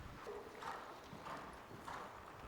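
Horse hooves during dressage training in an arena, three evenly spaced clip-clop footfalls, soft and a little distant, with no talking.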